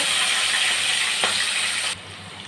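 Raw prawns fry in a pan with a loud, continuous sizzle that suddenly drops to a quieter hiss near the end.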